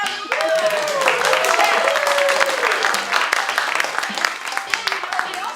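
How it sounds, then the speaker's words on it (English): A studio audience breaks into applause, a dense wash of clapping that holds steady and then thins out. Voices and cheering mix in at the start. "Let's give yourself a round of applause"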